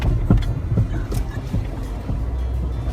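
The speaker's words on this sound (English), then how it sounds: "You're going to hear the suspension. It's got to make noise. Tires hitting the ground, suspension articulating" A Mercedes-Benz GL450 crawls over rough off-road ground, its suspension articulating and tires thudding on the dirt. The result is a continuous low rumble broken by irregular clunks and bumps, heard close up from inside.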